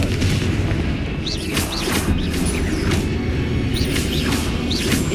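Loud, continuous blasts from the Confringo fire spell in Hogwarts Legacy, with booming rumbles and sweeping whooshes rolling over one another for the full stretch, with no pauses.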